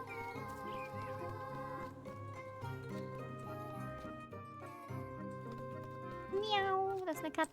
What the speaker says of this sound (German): Miau, das ist eine Katze.